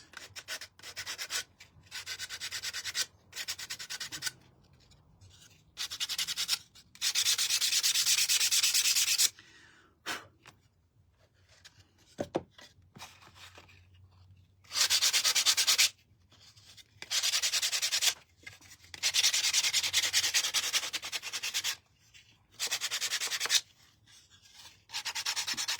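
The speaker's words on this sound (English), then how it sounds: "But what I do want to do is give it a little sand. I just like to have the edges distressed." Hand sanding along the edges of a painted piece to distress the finish, in repeated bursts of scratchy rubbing with short pauses between them, close and fairly loud with no talking.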